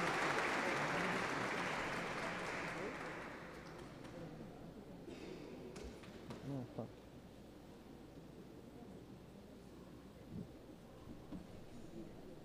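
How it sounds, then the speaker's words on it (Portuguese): Applause from an audience at a solemn session honoring Brazilian World War II veterans starts loud and fades after a few seconds, leaving quiet room noise with scattered faint knocks and shuffles. "queria pedir uma salva de palmas para esse grupo que acaba de ser homenageado"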